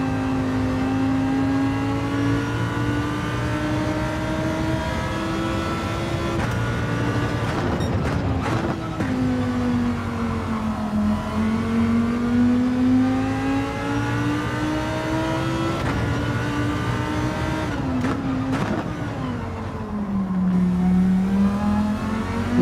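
A race car engine in Gran Turismo 7 drones and revs continuously, pitch rising and falling through gear changes over a long stretch, with brief downshift blips near the middle and toward the end.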